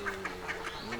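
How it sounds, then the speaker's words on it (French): Repeated nasal quacks from a decoy duck calling beside a hunting hide on a pond, about five or six calls in quick succession, close and clear. "ils attendent que le chant de leur canard attire les migrateurs sauvages"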